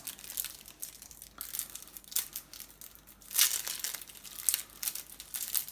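Plastic wrap being peeled and crumpled off a board game box, a Kanban Driver's Edition, with steady close crinkling and tearing bursts throughout and a louder crunch midway.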